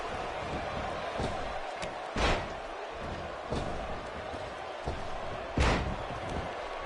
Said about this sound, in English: he connects with the missile drop kick